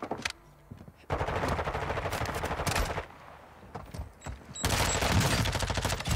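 Rapid automatic gunfire from a solo battle royale video game, fired in loud, dense bursts with short quieter gaps between volleys, then a sustained heavy barrage near the end.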